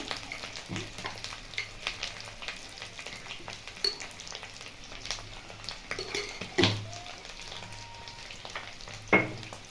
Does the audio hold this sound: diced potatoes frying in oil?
yes